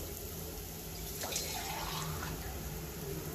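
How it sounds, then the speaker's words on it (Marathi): Water runs and splashes softly into a pan of frying spice masala over a low flame, a faint steady pour set against low background hum. "आता थोडंसं पाणी घालून घेते मी."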